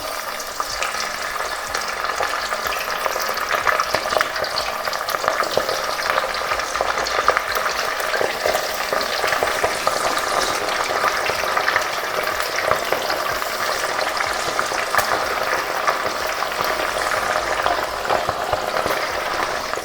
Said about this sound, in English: Let's get our chicken wings in this oil.